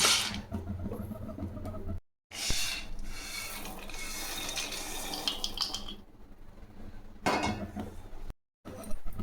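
Roasted black chickpeas pour and rattle into a container in bursts of dry, rough scraping and clattering, broken by short pauses of silence.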